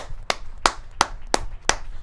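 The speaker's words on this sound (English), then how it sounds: "A great applause" Five slow, evenly spaced loud claps from a congregation at a religious service, each sharp and distinct with quiet gaps between them.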